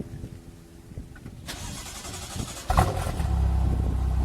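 An 800 hp BMW M6 with a catless downpipe and DME tune cold-starts: a quiet idle-like rumble, then a sharp crank-up and a loud engine flare that settles into a steady, louder idle.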